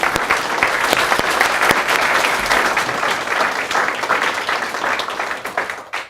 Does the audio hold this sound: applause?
yes